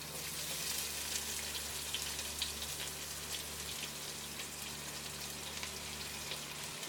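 Chopped onions fry in a pan of hot oil for crisp onions, a steady dense sizzle that holds even and close throughout with no one talking.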